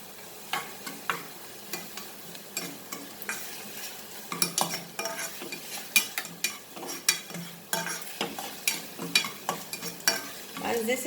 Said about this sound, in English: You can use vegetable oil or olive oil or sesame oil. So 3 types of oil you can use, and I will add now little bit of ginger garlic.